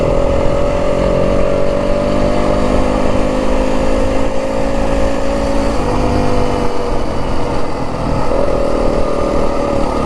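A 2025 Yamaha WR250F dirt bike engine droning steadily and loud while riding trails in the Santa Rita mountains of southern Arizona, holding a fairly even pitch with slight rises as the throttle shifts.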